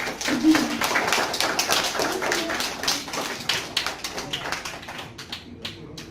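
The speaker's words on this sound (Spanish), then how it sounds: "le damos un fuerte aplauso a las mamás que participaron" Audience at a school event applauding the participating mothers, scattered, uneven hand claps from a modest group that thin out and fade toward the end, with some voices mixed in.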